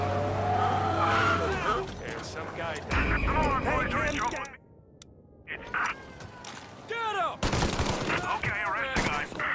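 Car chase with gunfire in Mafia Definitive Edition: engines roar, tires skid, and bursts of gunshots and machine-gun fire crackle throughout. Game voices talk and shout over the loud action, with a brief quieter lull in the middle.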